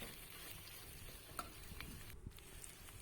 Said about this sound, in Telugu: కాసేపు మళ్ళీ వేపుకోవాలండి రొయ్యలు దాదాపుగా ఫ్రై అయిపోయాయి